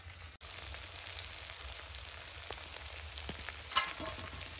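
Egg curry with biryani masala sizzles steadily in a pan while it is stirred, a low continuous fry with a few faint scraping touches and a brief utensil clink near the end.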